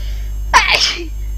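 One sharp, close sneeze from a person with allergies, a brief burst with a breathy tail over a steady low hum.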